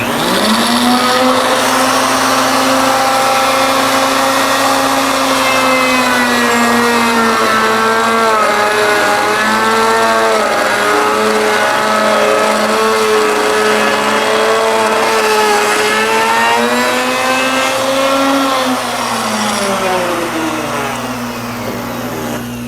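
A router cuts a cove into wood stock turning on a lathe for a two-start barley twist candlestick holder, a loud sustained whine whose pitch sweeps up and down as the cut progresses, with no talking over it.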